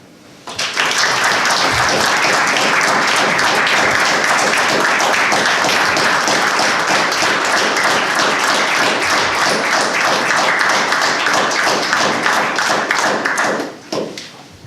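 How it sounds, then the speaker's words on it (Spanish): An audience applauds at length after a speech, a dense, loud wave of clapping that holds steady for over twelve seconds and then quickly fades. "Como ve don Juan Carlos, el aplauso es elocuente"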